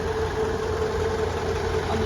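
A 2015 Mitsubishi Canter Fuso truck with a 4P10A diesel engine idles steadily, a constant close rumble with no breaks or revs.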